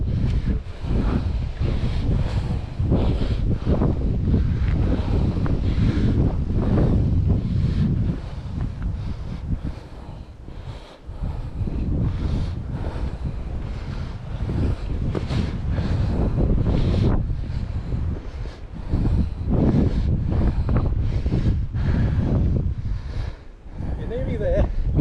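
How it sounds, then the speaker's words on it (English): Strong, gusting wind on a hillside hike buffets the microphone in a continuous loud roar that swells and eases throughout, with people talking intermittently beneath it. "It's windy as hell, but you're nearly there"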